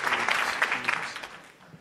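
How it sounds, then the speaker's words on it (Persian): Audience at the Navahang talent show breaks into a brief, dense round of applause that fades away within a couple of seconds. "بسیار زیبا تشویق کنین"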